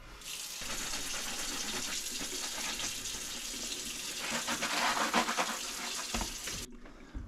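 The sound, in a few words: washing a motorcycle seat pan with soap and water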